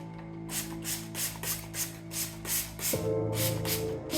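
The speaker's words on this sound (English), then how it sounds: "I take my spray bottle" A handheld spray bottle mists water onto a homemade creepy nurse costume in about a dozen short, evenly spaced hissing puffs, close and clear, with a faint tonal hum underneath.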